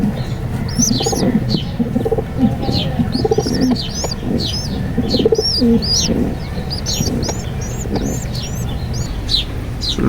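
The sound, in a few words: wild pigeon chicks cooing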